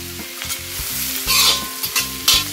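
Soya vegetable masala sautéed on a high flame, a loud constant sizzle with a spatula scraping and tossing in quick rhythmic strokes, close up and with no voices.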